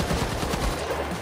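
Rapid gunfire in the video game The Finals, a dense continuous burst of shots blended with engine and ambient noise, loud and close.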